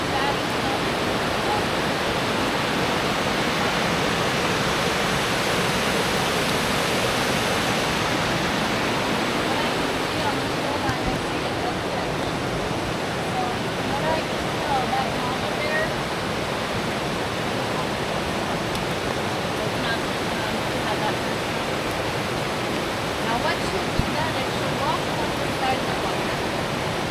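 A waterfall in Alaska pours with a constant broadband rush, a dense steady roar with no breaks from start to finish.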